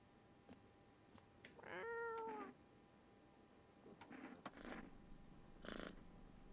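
Cat meows in the game No I'm not a Human: a drawn-out, wavering meow near the two-second mark, then several shorter meow-like calls later, fairly close and moderately loud, with no talk over them.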